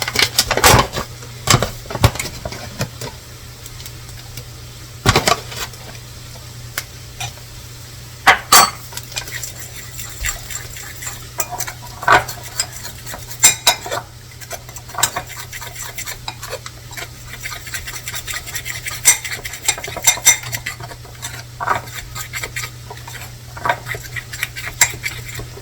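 Pancake batter of flour, water and a pinch of salt is stirred in a bowl, a utensil clinking and scraping in irregular taps and knocks for the whole stretch, close and moderately loud with no talking.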